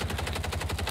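Rapid sustained MP5 submachine gun fire from a video game on Rebirth Island, a loud, tight burst of evenly spaced shots running without pause and no talking.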